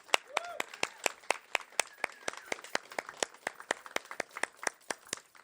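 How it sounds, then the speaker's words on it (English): Scattered applause at an open mic poetry event, with a few nearby individual hands clapping in a sharp, fairly regular rhythm rather than a full crowd roar, and faint voices in between the claps. "A huge, huge, huge, huge, huge round of applause for Amy"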